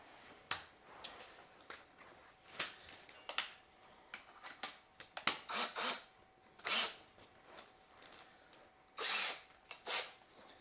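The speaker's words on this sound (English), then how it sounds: "we're going to drill these holes" Short bursts of a power drill with a 1/4 inch bit boring holes for a PetSafe pet door installation, several quick whirs spaced irregularly among small clicks and handling taps, close and fairly quiet.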